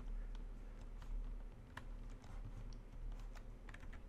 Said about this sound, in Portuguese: É pá, bati correto no teclado